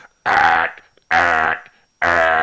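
Three loud, harsh electronic blasts pulse at an even rhythm with short silent gaps, a grating Amazon Prime delivery truck reversing alarm heard up close in a neighborhood.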